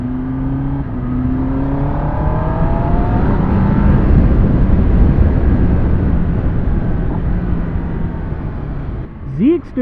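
BMW S1000RR M Sport motorcycle being ridden, its engine droning loudly and steadily with rising and falling revs and heavy wind rumble, close to the rider.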